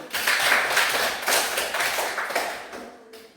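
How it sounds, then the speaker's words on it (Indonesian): A classroom of children clapping hands together in a quick, dense patter that swells near the start and then gradually thins and fades, loud and close, with no talking over it. "Tepuk tangan dulu."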